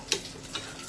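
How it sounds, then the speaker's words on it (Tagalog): A gas stove igniter clicks twice, sharp separate ticks close by, while the burner is lit to start cooking soup noodles on a rainy day. "Sindihan ko po yung kalan."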